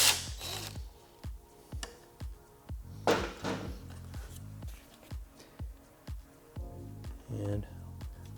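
Rapid ratcheting clicks from a socket wrench loosening fender fasteners on a 2021-or-later Yamaha MT-07, coming in about a dozen short, evenly paced bursts, close and fairly quiet, with brief pauses between strokes.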